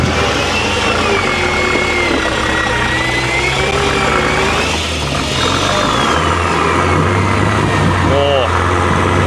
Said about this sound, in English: So the mighty diesel.